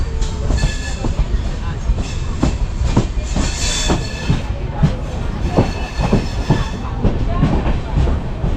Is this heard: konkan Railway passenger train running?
yes